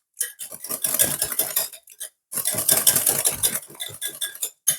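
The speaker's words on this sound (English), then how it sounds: "So I'm just going to use my hand whisk." Hand whisk clattering rapidly against a bowl while beating a peach cream cheese cake mixture, loud and close in two long bursts with a brief pause.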